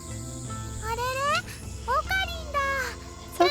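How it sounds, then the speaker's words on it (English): Cicadas chirp from a few trees beside a shrine in the Steins;Gate visual novel game, a steady high drone running under background music and a voice. "I can hear the chirping of cicadas from a few trees growing here."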